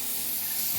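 A short, steady burst of liquid fertilizer sprayed onto garden plant leaves gives a close, continuous hiss with no pauses.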